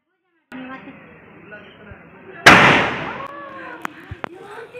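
A firecracker goes off outdoors with a single sharp, loud, close bang that rings out in a long fading echo, followed by a couple of faint pops, while a voice talks nearby.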